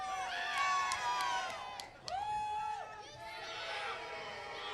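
Crowd at a wrestling event yelling and cheering, a dense wash of many voices with whoops and shouts rising and falling, heard from within the audience.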